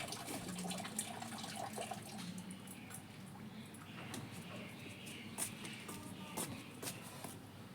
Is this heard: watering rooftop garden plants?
yes